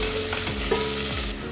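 Chopped green chillies hit hot oil in a pan for a poha khichdi, producing a loud, steady sizzle and fry with faint stirring, no voices.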